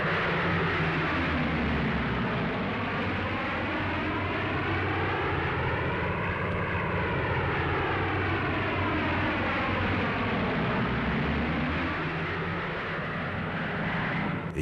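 WWII bombers and fighter aircraft fly overhead in a loud, continuous propeller-engine drone, with a rising and falling pitch that suggests a large formation passing directly above for the whole stretch.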